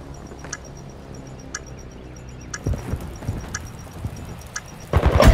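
A planted bomb's countdown ticks in Call of Duty Modern Warfare Search and Destroy: steady, faint, high ticks about once a second, with rumbling game noise building underneath and a louder burst at the end.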